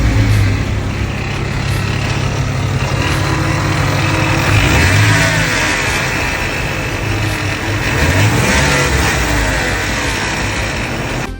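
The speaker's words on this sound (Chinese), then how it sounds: "以及启动时有异响" A second-generation Ford Raptor with about 300,000 km and a failing catalytic converter runs loud and close, its engine idling with a steady low rumble and rough mechanical rattle, rising slightly in revs around the middle.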